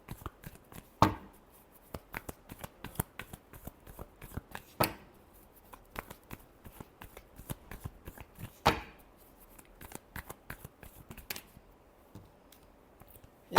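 Tarot cards being shuffled by hand, a run of soft papery riffles and light clicks, with a few sharper slaps standing out near and fairly quiet, no talking.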